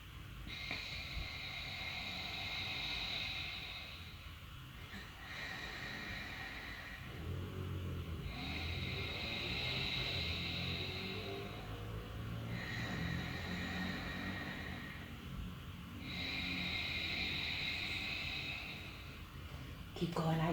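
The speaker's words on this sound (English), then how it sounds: "our ocean breath in English" Ujjayi ocean breath in a yoga vinyasa flow, drawn through a constricted throat, with long hissing inhales and exhales alternating in a slow, steady cycle, close and airy.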